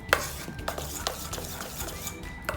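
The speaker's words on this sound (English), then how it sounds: "we'll give it a stir" A spoon stirs salted handvo batter of ground grains and lentils set aside to ferment, giving soft, close scraping and clinking against the bowl in an irregular rhythm, moderately quiet.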